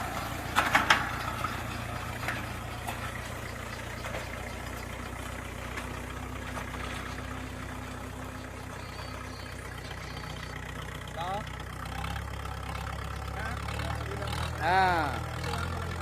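A new Bharat tractor engine runs steadily while ploughing a field, a continuous low idling drone through the whole stretch, with a few brief mechanical knocks near the start and a swelling near the end.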